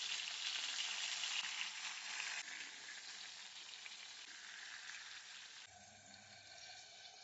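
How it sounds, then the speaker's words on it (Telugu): Tomato halves fry in a kadai pan with a faint, even hiss that softens midway, then a quieter crackle near the end, with no voices. "ఈ కడాయిలోనే టమాటాలు ఇలాగ సగానికి కోసుకొని"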